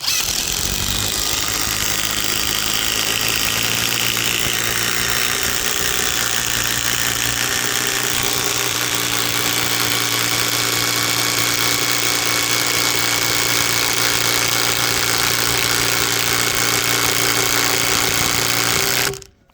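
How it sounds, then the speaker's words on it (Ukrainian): A 20-volt impact driver sinks a 55 cm screw with a loud, continuous buzzing hammer that runs nearly twenty seconds at close range, then stops abruptly. "Ось 20-вольтний імпакт."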